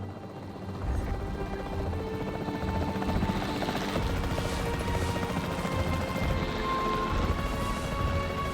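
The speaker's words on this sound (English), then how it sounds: "The priority needs to be tranquilizing it with the capture team chopper." Capture team chopper in Jurassic World Evolution 3, a steady loud rotor drone filling the whole stretch, with scattered sharp cracks and thuds mixed in beneath, no voices.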